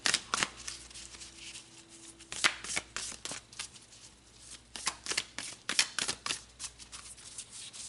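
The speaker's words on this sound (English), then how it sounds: "So let's pull one final card." Tarot cards are shuffled by hand in quick, close riffling bursts, a crisp papery flutter repeating irregularly with short gaps between, no talk.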